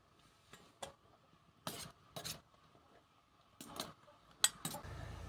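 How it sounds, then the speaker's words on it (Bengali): A spoon stirs neem soap base melting in a bowl set over hot water, giving a few separate scraping and clinking strokes with quiet pauses between them and one sharper metallic clink near the end. "আর একটু চামচ দিয়ে নাড়িয়ে দেবো"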